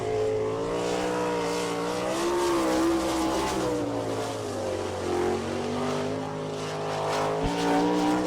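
A sprint car lapping the Attica track on an All Star Circuit of Champions night in Ohio, its engine droning loudly and rising and falling in pitch through the turns, heard from close by without talking.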